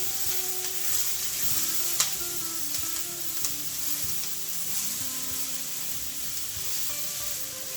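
Carrots stir-fried in a wok for shrimp fried rice give a steady close sizzle and a hiss of frying, with occasional sharp clicks of the utensil against the pan.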